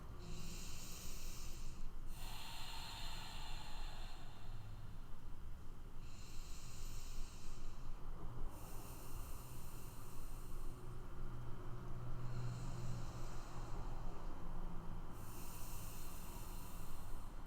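Slow, deep breathing held in a yoga pose, each long inhale and exhale rising and falling in soft, airy waves at close range, repeated over several rounds with no talk.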